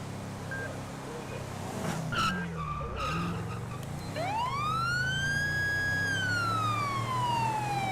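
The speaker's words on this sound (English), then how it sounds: "Attempting to catch up to a sports car eastbound Joshua Road" A police pursuit of a sports car in a night-time roleplay video game, where an engine roars and tyres screech in a long skid, then a police siren rises and holds a steady wail, loud and close.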